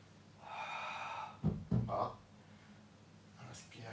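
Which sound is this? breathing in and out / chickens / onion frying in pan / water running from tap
breathing in and out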